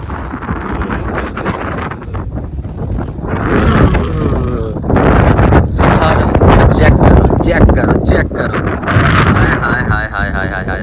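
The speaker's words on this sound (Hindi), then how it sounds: "क्या हवा चल रही है यार इधर तो" Strong wind gusting across Lulusar Lake, roaring and buffeting the microphone in a continuous, heavy rush that swells louder midway, with excited voices talking over it.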